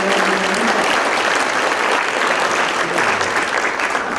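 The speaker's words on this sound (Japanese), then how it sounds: "どうぞ組織委員会メンバーに大きな拍手をお送りください" Sustained, dense applause from a large audience at the WPC 2017 award ceremony, greeting the governing committee, loud and steady from start to finish with no pauses.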